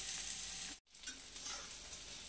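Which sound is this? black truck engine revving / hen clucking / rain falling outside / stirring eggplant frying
stirring eggplant frying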